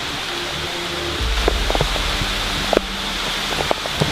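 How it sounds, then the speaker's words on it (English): Heavy rain pours down outdoors, heard from under a tree as a constant broadband hiss with scattered louder drips and patters close by. "it's absolutely chucking it down with rain"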